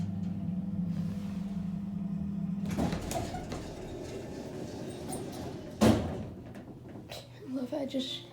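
A Westinghouse hydraulic elevator door in a Bloomingdale's at King of Prussia Mall rolls shut and bangs hard into the frame. A low motor hum cuts out first, then a loud single slam rings briefly, followed by a few faint rattles.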